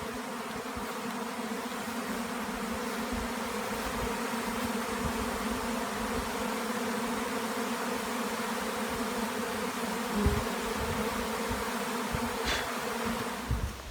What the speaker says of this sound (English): This is what the beginning of a swarm looks like.